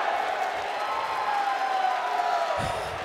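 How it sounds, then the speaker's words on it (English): Arena crowd at a CS:GO esports semi-final match between MIBR and North on the map Train, a steady dense roar of cheering and noise filling the hall, continuous and fairly loud throughout. "the crowd are loving it"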